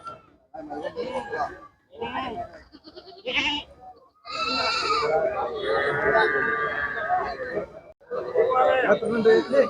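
Bleating from a Karoli goat and its two kids at a livestock market, several wavering calls, some long and strained, rising over people talking nearby.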